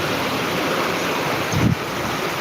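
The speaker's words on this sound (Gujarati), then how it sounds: "અત્યારે ધોધમાર વરસાદ ચાલુ છે" A dense, steady hiss of heavy rainfall pours continuously in Jamkandorna, Gujarat, loud and close, with a brief low rumble partway through.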